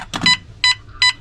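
A propane detector's short electronic alarm beeps sound three times in quick succession, loud and close, after a brief click of handling, on a converted school bus.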